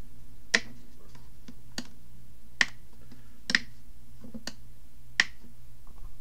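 Solid switch clicks on a Winwing PTO 2 flight simulator panel: six sharp, distinct clicks spaced roughly a second apart, close and clear over a low steady hum.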